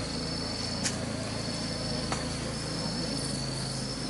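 Honeybees swarming around a beehive during honey harvesting, a dense continuous buzzing drone with a steady high insect-like whine and occasional brief louder passes close by, heard alone.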